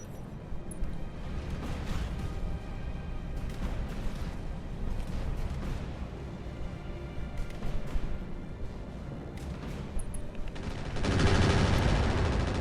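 Mech weapons fire in Roguetech BattleTech as dense, continuous rolling gunfire and booming volleys build to a heavier roaring blast near the end.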